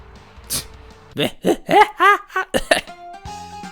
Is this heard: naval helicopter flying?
no